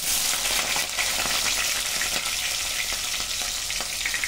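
Sliced green chillies and onion sizzle in hot oil in a pan for a fish curry, a steady dense crackle with occasional stirring scrapes, close and continuous with no voices.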